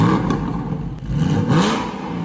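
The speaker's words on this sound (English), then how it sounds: "Now compare the factory sound to the new exhaust." A car engine fitted with an aftermarket exhaust revs hard twice with a deep, throaty exhaust roar, rising and falling close by.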